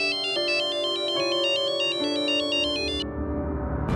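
A mobile phone ringtone plays loud and close, a repeating bright electronic melody in steady pulses that cuts off near the end, in a Hindi TV drama scene.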